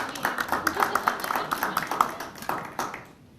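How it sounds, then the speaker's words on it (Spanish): Applause for a doctor at an Investiga Colombia academic event: a room of people clapping in a steady patter of hand claps, moderately loud, with voices mixed in, fading out at the end. "Un aplauso para la doctora."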